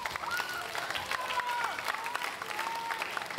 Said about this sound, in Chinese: 所以大家给她一个掌声好吗？